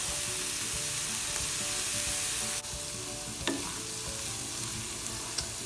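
Vegetables with garlic simmering in a pan, giving a steady close sizzle and crackle, with a couple of faint clinks partway through.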